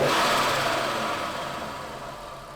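A Cupra Formentor VZ5 engine fitted with an APR carbon intake revs near and loud at the start, then the engine note slowly fades and settles over a couple of seconds.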